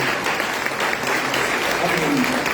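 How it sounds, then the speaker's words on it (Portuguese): Congregation in a church clapping steadily and loudly as a group for about two and a half seconds, with voices mixed into the applause. "Palmas para o Senhor."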